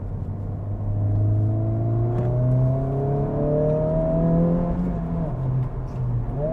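A 2023 Honda Civic Type R in Plus R mode pulls out of a racetrack pit lane, its engine a steady close rumble that rises in pitch as it accelerates through the gears, with no talk over it.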